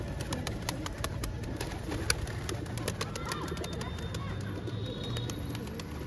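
Pigeons cooing on a rooftop, a low, repeated soft cooing close by over a steady outdoor background, with faint chirps and a brief sharp knock midway.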